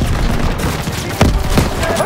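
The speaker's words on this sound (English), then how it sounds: "Open fire! Suppressive fire! Keep firing!" Gunfire in the World War II shooter game Call of Duty WWII, a dense loud fusillade of overlapping shots and booms with soldiers shouting in the background.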